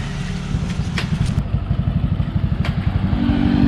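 A Yamaha Mio Sporty scooter engine, earlier without electrical power, cranks and catches, settling into a steady rapid putter with a faint clatter that grows slightly louder toward the end.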